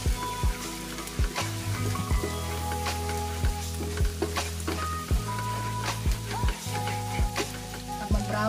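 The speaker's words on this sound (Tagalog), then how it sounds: "So, hintayin lang natin medyo mag-brown yung ating garlic." Garlic sizzles steadily as it fries and browns in a pan for a creamy shrimp dish, a constant crackle under rhythmic background music with regular thumping beats.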